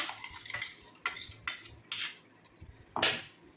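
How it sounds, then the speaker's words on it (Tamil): Juice is strained through a tea strainer, giving a handful of separate metallic clinks and scrapes spaced about half a second apart, fairly quiet and close, with no voices. "இப்போ இதை வந்து நம்ம ஒரு டீ ஃபில்ட்ரு வச்சு நம்ம வடிகட்டி எடுத்துக்கலாம்"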